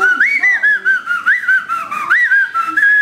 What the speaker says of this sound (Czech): A slyší pískot?